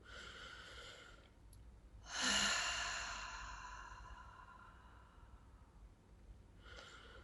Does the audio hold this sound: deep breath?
yes